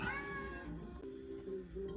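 A domestic cat meows once in a long, drawn-out call with a falling pitch that trails off, close by and alone, with no voices.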